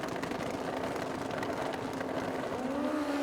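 A drag racing motorcycle at Santa Pod Raceway holds a steady, loud engine drone, its pitch rising as the revs build toward the end.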